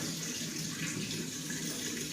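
Tap water runs steadily into a container for soaking separated garlic cloves in a home kitchen, a continuous close hissing splash with no talk.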